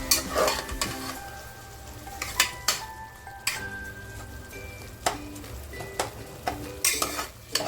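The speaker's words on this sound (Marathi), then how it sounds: "भात मस्त फ्राय होऊ दे गॅस फुलच ठेवला आहे" Rice with peas fries in a pan over a full gas flame, a low sizzle punctuated by frequent metallic spoon scrapes and clinks against the pan.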